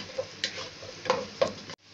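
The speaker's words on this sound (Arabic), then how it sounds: "ابتدي اقلب في البصله لحد ما تحمر خالص، يبقى لونها نبيتي" Chopped onion fries in a pan and is stirred until it turns deep brown, giving a quiet, steady sizzle broken by a few soft scraping and clicking stirs of the utensil.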